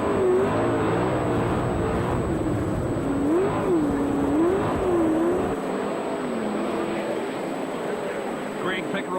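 A sprintcar engine howls around the roughly 434-metre Palmerston North dirt track, its pitch rising and falling in repeated revving sweeps as it laps, heard from on board with a commentator talking over it.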